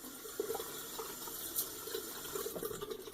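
Water from a tap runs steadily while a hand is wetted before shaving lather goes on, a continuous close splash and patter with small bursts of spray.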